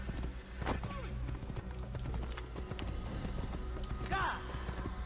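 Rhythmic hoofbeats of a galloping horse in the video game Assassin's Creed 1 clip-clop steadily, with a voice talking over them and brief tonal chirps.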